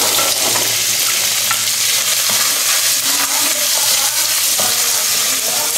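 Smoked bacon fries loudly in a pan for feijão tropeiro, a dense, constant close sizzle and crackle with stirring from a wooden spoon mixed in.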